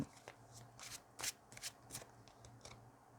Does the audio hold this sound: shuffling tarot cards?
yes